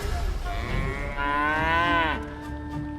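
Cattle lowing in the Divinity: Original Sin 2 video game, a single long drawn-out moo swelling and then cutting off, loud and clear over a low game ambience, with no speech.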